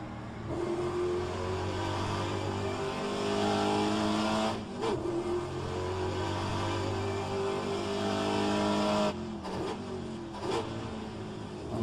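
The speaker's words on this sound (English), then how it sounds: "I must not blow the engine on that downshift." A race car engine in a racing video game, loud and continuous, holding steady drones then dropping pitch on a downshift with brief revving blips and gear changes near the end.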